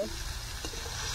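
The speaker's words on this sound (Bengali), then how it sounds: "চিকেনগুলো সুন্দর ভাজা হয়ে গেছে" Chicken pieces frying in hot oil, a steady soft sizzle running evenly through the short moment with no voices.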